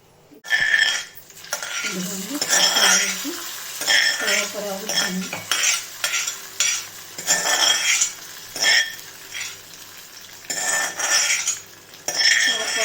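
Tempering spices in a pan for a buttermilk curry, heard as repeated close metallic spoon clinks and stirring scrapes against the pan, with faint sizzling underneath.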